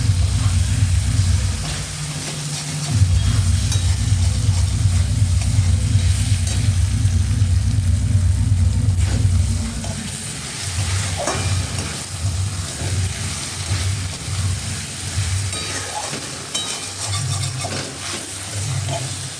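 Paneer pieces stir-fried in hot oil in a pan for chilli paneer, a steady close sizzle with scraping stirs that turn into choppier bursts of frying and clatter partway through, with no voices.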